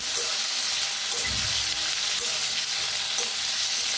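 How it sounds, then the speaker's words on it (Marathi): Capsicum and potatoes are stirred in a frying pan, giving a continuous oil sizzle with a few soft scraping knocks of the spoon, close and steady with no talking. "त्याच्यातच टाकूया आता शिमला मिरची आणि बटाटो आता हलवून घेऊया मिक्स करून सगळं"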